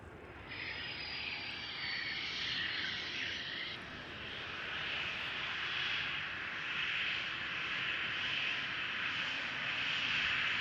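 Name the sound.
Embraer 190 jet engines spooling up on runway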